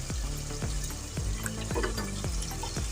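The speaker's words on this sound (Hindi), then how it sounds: "मसाले हमारे अच्छी तरह से भून चुके हैं।" Spiced masala for chana pulao frying in a pan with a steady sizzle, with repeated scraping or stirring strokes at a regular rhythm and no talk over it.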